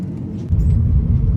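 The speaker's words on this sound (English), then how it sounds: "There's traffic. Do you appreciate my traffic?" Road traffic rumbles by up close, a heavy low drone that swells abruptly midway and holds steady and loud.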